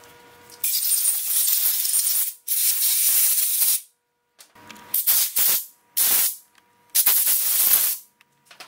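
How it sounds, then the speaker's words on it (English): Compressed air blasts in several loud, close bursts during an outboard motor water pump repair, a couple of them longer hisses and the rest short sharp puffs with brief gaps between. "Air, by the way, compressed air."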